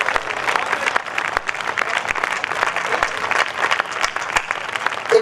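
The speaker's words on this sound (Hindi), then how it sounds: "बहुत बढ़िया आपकी तालियां बजा रही हैं निश्चित रूप से" An audience at a recital of a poem about Bhagwan Neminath and Girnar breaks into loud, sustained applause, with many hands clapping densely and evenly from start to finish.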